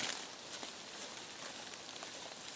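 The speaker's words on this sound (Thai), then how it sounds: "มีเม็ดฝนโรยลงมาเรื่อย ๆ ตกหนักบ้าง หยุดบ้าง" Rain falls steadily in a forest, a soft, even hiss of drops on leaves, faint and continuous with no voices.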